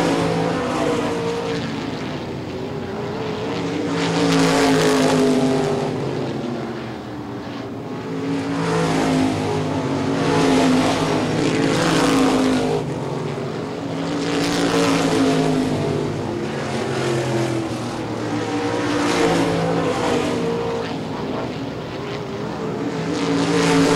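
Modified race cars on the ICAR Top Speed Modified Tour circle Baer Field Motorsports Park, their engines swelling and fading in a repeating cycle as the pack roars past again and again.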